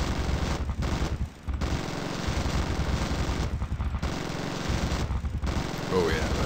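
A zombie gunship's mounted gun fires at zombies in Zombie Gunship Survival, rapid continuous bursts with brief pauses, moderately loud with a voice occasionally talking over it.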